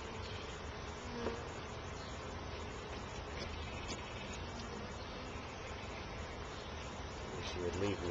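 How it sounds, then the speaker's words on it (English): Honey bees buzz around an open urban hive during an inspection, a faint, continuous droning hum with a few louder passes nearby and soft handling noises, low in level throughout. "It's a little nerve-wracking still having bees crawl around on you"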